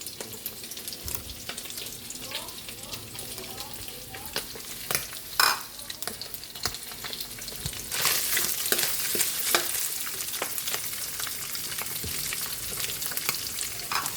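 Tomatoes sizzle in a hot pan while being stirred, with scraping and clinks of the utensil over a continuous frying hiss that grows louder partway through.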